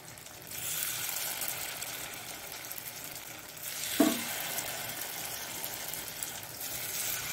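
Spoonfuls of cucumber appa batter hit a hot pan and sizzle steadily, a soft continuous frying hiss with a brief clink near the middle, no voices.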